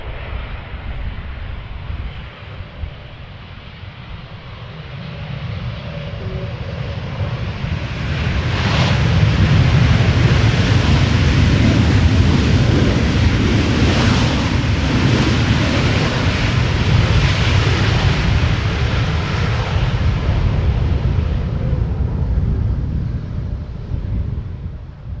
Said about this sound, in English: German Airways flying for KLM, arriving from Bristol, flight 1050.